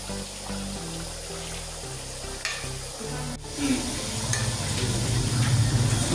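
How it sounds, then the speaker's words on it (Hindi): Chicken pieces frying in a karahi over high flame, a steady loud sizzle that grows denser and hotter toward the end, with occasional stirring clatter and no talk. "और इसे हम जो है हाई फ्लेम पे फ्राई करेंगे।"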